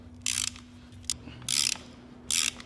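A ratchet wrench tightens a rear shock absorber bolt on a Chevrolet Optra, 2005–2012. Four short, close bursts of rapid ratcheting clicks come over a faint background hum.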